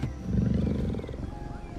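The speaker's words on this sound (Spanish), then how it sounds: "podemos oír cómo ronronea el jaguar" A deep, rumbling jaguar purr-growl, short and close, pulsing rhythmically before trailing off.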